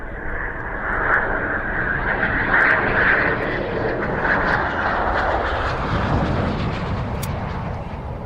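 A fixed-wing aircraft coming in to land at an airfield, heard as a steady, loud, broad engine roar that holds throughout with gentle swells, close to the listener and with no talk.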